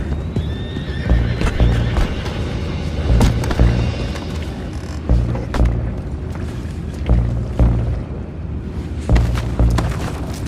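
Horses neigh and whinny loudly amid rapid clip-clopping hooves in Red Dead Redemption 2, with booming thuds and a dense, chaotic game soundscape throughout.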